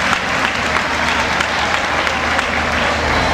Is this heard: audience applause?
yes